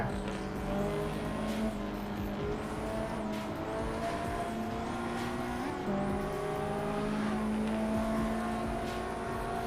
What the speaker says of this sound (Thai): นี่ครับก็จะขับแข่งกันประมาณนี้แหละถนนกว้างๆโล่งๆ